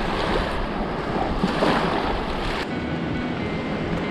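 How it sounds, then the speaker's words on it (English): Broad, steady rush of ocean surf washing on a beach after Hurricane Sally, with wind brushing the microphone and a swell that rises and eases. "And listen to that ocean."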